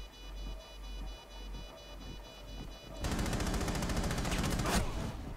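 Rapid automatic gunfire in Rainbow Six Siege, a dense, loud burst of shots fired in quick succession after a quieter stretch of ambient game sound.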